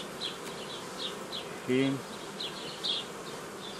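Honeybees at an opened hive in an apiary, a soft steady buzz with brief louder passes of individual bees flying close, and a short voice sounding once in the middle.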